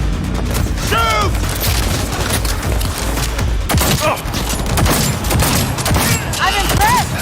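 Rapid bursts of gunfire crackle through a Cyberpunk 2077 firefight in Night City, dense and loud with repeated shots and thuds, while a person talks over the action.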